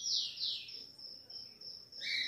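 A five-month-old azulão chick sunbathing gives high, bright chirps in quick descending sweeps, then a sustained thin whistle and a final rising call, clear and close in a quiet setting.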